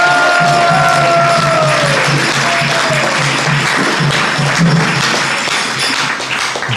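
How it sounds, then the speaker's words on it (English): A gathering applauds a woman at a Vaishnava initiation ceremony with a steady, loud wash of clapping, while a low hum runs underneath and a brief voice is heard early on. "So you please give her a big round of applause"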